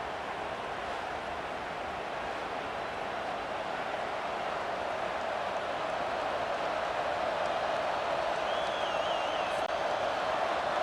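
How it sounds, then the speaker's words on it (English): Stadium crowd roar in EA Sports College Football 25, a steady dense wall of cheering that swells slightly louder over time as the home fans try to rattle the offense, with faint commentary-like voices mixed in. "It is getting loud as this crowd tries to help its defense."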